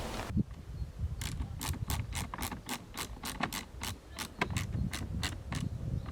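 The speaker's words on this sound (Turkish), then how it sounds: "Şu köşelerden birer tane daha vida atmayı düşünüyorum." Rapid, evenly spaced clicking bursts from screws being driven into a license plate on a Chevrolet Lacetti, close and fairly quiet, with a soft rustle between clicks.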